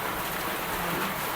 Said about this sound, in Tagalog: lumakas na po ang ulan